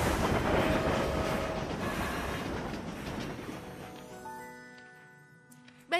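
Cartoon train rolling along rails with a dense, loud rumbling clatter that gradually fades and thins out, leaving sparse tones near the end.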